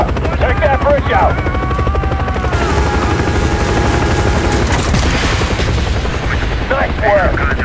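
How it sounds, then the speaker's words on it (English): Helicopter rotor thrum with bursts of gunfire in the Call of Duty: Black Ops campaign, a loud steady rotor drone throughout, rapid gun volleys and a few booms layered on top, plus faint radio-style voices. "I know helicopters fly a lot differently than other things, because there's two rotors."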